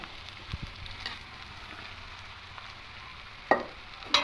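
Rice stir-fried in a pan for veg fried rice: a soft, steady sizzle with scraping stirs, and two sharp metallic clinks of a spatula near the end.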